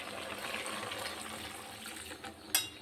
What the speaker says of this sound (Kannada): ನೀರನ್ನ ಹಾಕೊಳ್ಳೋಣ.